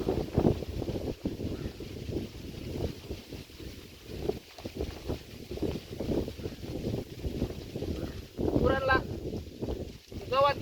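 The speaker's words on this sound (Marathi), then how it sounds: "पाऊस काय आहे ना वारा सुटलाय" Strong wind gusts roar and buffet the microphone continuously across open farmland with standing crops in a village, with a person talking over the rushing noise.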